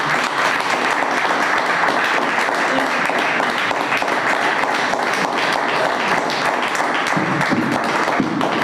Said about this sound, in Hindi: हमारे भाई के लिए एक बार फिर से ताली बजाएं